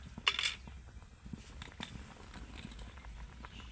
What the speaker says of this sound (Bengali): এইভাবে একটা ছাঁকনির সাহায্যে আমি ভাতটাকে এইভাবে জল থেকে ছেঁকে নেব